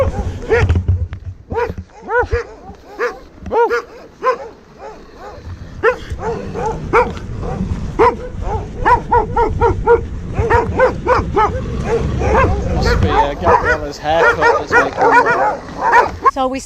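Dogs at a traditional Sardinian family home bark and yip in repeated bursts, tangled with people talking and a voice mimicking the barks.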